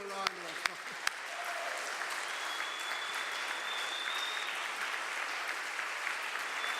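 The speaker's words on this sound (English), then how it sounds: "So maybe we can give him a round of applause." A large audience at the Kay Spiritual Life Center's 50th anniversary celebration applauds Chaplain Joe Eldridge: dense, steady clapping close and loud for nearly seven seconds, opened by a few sharp individual claps, with a faint whistle-like tone partway through.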